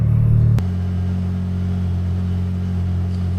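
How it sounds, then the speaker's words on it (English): A Can-Am Maverick R side-by-side sits running with a steady low idle drone, close and constant, after a brief louder rev at the start drops back to a smooth rumble. "It's going to be kind of noisy because of the car's running"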